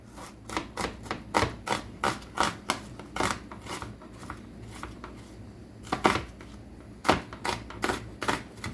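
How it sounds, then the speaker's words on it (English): An onion diced with a knife on a cutting board during casserole prep, a quick run of crisp, close chopping taps in an uneven rhythm, with no talking. "I'm going to dice up my onion"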